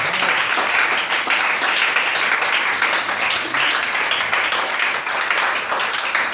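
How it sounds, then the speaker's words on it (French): A church congregation bursts into sustained, dense applause that holds steadily for several seconds, filling the room with no other sound standing out. "Est-ce que tu peux acclamer le Seigneur Jésus? Acclame Jésus de Nazareth ce matin"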